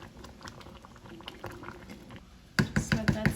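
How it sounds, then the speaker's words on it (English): Rice pudding with brown sugar simmering in a pot gives a quiet bubbling patter, followed by a few louder, sharper knocks or clinks near the end. "Just let that simmer down"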